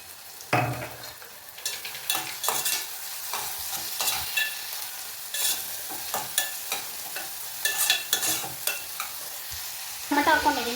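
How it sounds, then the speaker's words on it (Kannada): Onions roasting in a pan with a pinch of salt, sizzling steadily while a spatula stirs and scrapes in frequent clattering strokes, close up, ending in a louder burst of stirring. "ಈರುಳ್ಳಿ ಬೇಗ ರೋಸ್ಟ್ ಆಗಬೇಕು ಅಂದರೆ ಸ್ವಲ್ಪ ಉಪ್ಪು ಹಾಕ್ಕೊಳ್ಳಿ."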